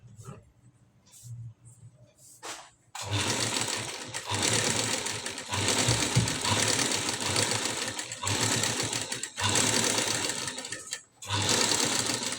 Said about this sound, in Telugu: ఇలా చూసుకుంటూ మనము నెక్ అయితే కుట్టుకోవాలి.